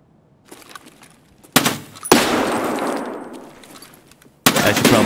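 Bursts of automatic rifle fire in the shooter game Escape from Tarkov, loud rapid volleys separated by short gaps, with the echo trailing off after each burst.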